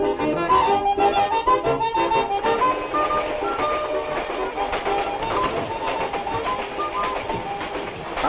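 A train rumbles along the tracks with a steady clickety-clack and a metallic hum, loud and close, continuous throughout.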